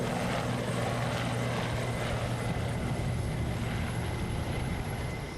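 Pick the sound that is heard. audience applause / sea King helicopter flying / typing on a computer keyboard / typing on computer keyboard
sea King helicopter flying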